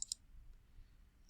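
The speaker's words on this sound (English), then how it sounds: "I pressed the subtraction sign instead of the negative sign on my keyboard." Two quick, crisp computer keyboard key clicks sound close together at the start, then near-silence.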